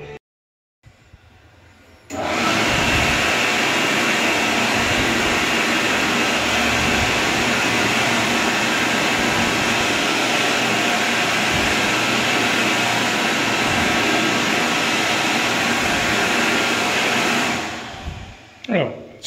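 A standard warm air hand dryer in the United Kingdom kicks on with a loud, steady blowing roar, runs continuously for about fifteen seconds, then winds down and cuts off.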